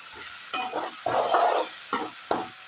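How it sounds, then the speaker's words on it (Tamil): Tomatoes sautéing in a pan for sundakkai vathal kuzhambu, with bursts of sizzling and stirring scrapes coming in uneven waves close by, no talking. "இப்போ தக்காளி நல்லா வதங்கிடுச்சு."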